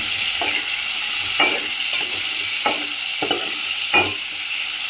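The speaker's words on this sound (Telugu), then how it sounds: "ఇది కొంచెం బ్రౌన్ కలర్ వచ్చేదాకా వేగనిద్దాం" Dried fish with raw mango sizzles in hot oil in a pan, a steady close crackle browning throughout. A utensil scrapes and stirs through it every second or so.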